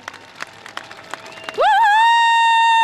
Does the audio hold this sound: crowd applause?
yes